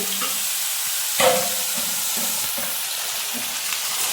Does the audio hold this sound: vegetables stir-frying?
yes